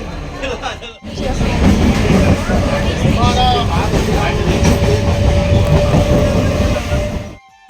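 A train running on rails, a loud, steady rumble with rhythmic clatter throughout, and faint voices mixed into the din.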